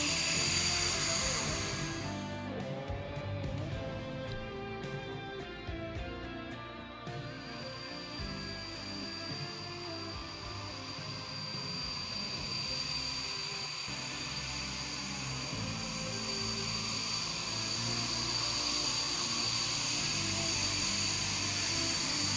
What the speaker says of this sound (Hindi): इसी तरह से हमारे लड़ाकू विमान एक मिशन को पूरा करके दूसरे मिशन के लिए तैयार होते हैं।